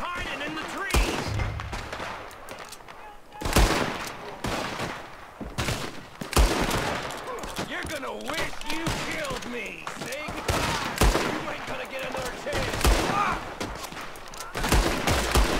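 Gunshots in the Western game Red Dead Redemption crack sporadically during a fight at an enemy camp, sharp separate reports and short bursts with quieter gaps between, some farther away, under ambient game sound.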